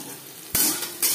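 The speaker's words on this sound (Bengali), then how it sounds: "15-20 সেকেন্ড 5 ফোড়ন ভেজে নেওয়ার পর দিয়ে দেব পেঁয়াজ কুচি।" Chopped onions hit hot refined oil that already holds five-spice, giving a sudden loud sizzle with a second surge a moment later.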